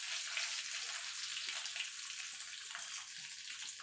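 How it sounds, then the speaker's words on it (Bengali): Nigella seeds (black cumin) sizzling in hot oil in a pan after the prawns come out, a steady close hiss and crackle with no talking. "এই তেলে দিয়ে দেবো কালো জিরা"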